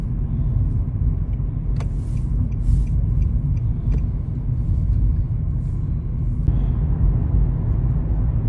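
Cars pass on a quiet local road on Christmas Day, a continuous engine and tire rumble with a few passing vehicles, moderately loud and close, with no talk.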